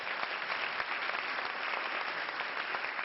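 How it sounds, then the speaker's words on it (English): An audience claps during a city address in Newark, New Jersey, a continuous, even roar of applause heard from a distance, somewhat muffled and dull. "let's give the first group a round of applause"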